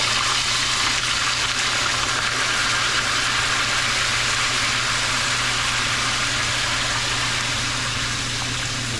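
Water gushes steadily into a cooking pot of pata humba with onion and garlic, a continuous loud broadband rush lasting throughout with no pauses.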